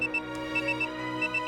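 A phone rings in the video game Phantasy Star Universe: Ambition of the Illuminus, heard as a repeating electronic ringtone chirp in short pulses over a steady synthetic game-music drone, with no talking.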